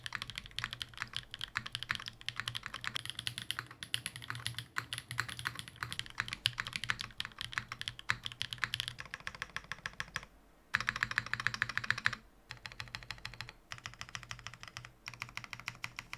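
Fast, continuous typing on a TKL mechanical keyboard with 5-pin linear switches and GMK Hennessy keycaps, giving a dense clacky patter of keystrokes up close, with a brief pause and a few heavier bursts.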